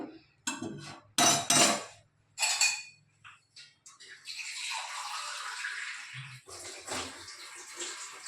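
Water splashes and pours onto a metal plate set over a low gas flame. A few sharp clinks come first, then a steady hissing pour runs for several seconds.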